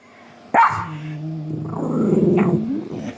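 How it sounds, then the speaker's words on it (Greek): A dog barks sharply once, then growls and grumbles in a long, rising, close-up vocalization indoors, loud and with no talking over it. "Εσύ γιατί γαβγίζεις?"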